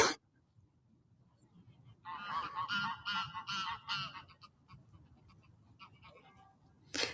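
Waterfowl call in a burst of loud honking for a few seconds, then a few scattered faint calls, beside the windmills of Zaanse Schans village, with quiet surroundings otherwise.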